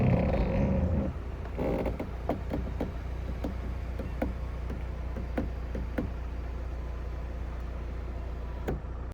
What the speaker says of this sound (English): my sunroof had been really creaky and groany and awful